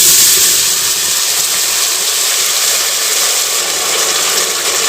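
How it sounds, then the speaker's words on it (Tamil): Ground onion-tomato paste drops into hot oil already holding cinnamon, clove, cardamom and fennel, giving a loud, steady, broadband sizzle that barely eases across the whole stretch, with no voices. "இப்போ நம்ம அரைச்செடுத்த பேஸ்ட்டை உள்ளே சேர்த்துக்கலாங்க"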